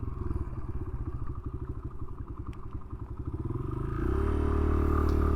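A Kawasaki motorcycle rides along with a rapid, pulsing engine chug that rises into a steadier, louder drone near the end, heard up close with no speech.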